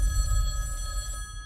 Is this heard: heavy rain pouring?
no